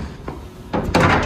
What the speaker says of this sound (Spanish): voy a cerrar la puerta que no pegué portazo.